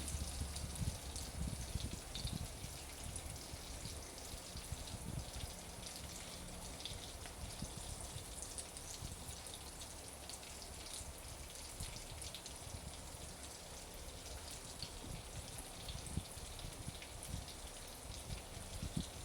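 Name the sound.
mustard seeds and fenugreek spluttering in hot oil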